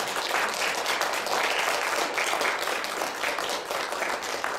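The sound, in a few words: congregation applause welcoming a newly baptized child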